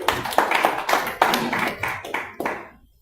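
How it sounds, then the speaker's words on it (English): Business forum audience clapping for a few seconds, a burst of hand claps that swells, then thins out and fades toward the end. "You can clap for yourself."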